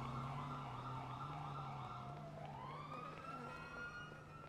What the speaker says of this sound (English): Are you hearing all those sirens?